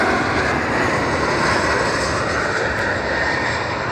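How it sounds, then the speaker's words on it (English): A jet plane flying overhead gives a steady, fairly loud broadband roar that holds evenly throughout, without voices. "Let's watch this plane. I mean jet."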